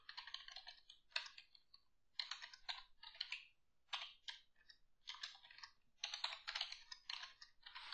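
Fast, steady typing on a computer keyboard as code is entered, close and quiet, with bursts of key clicks separated by short pauses and no voices.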